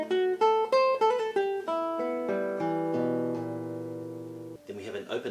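Acoustic guitar playing a Sons de Carrilhoes sequence, a run of plucked notes descending in steady rhythm with ringing sustain, close and moderately quiet, ending with a spoken voice at the close.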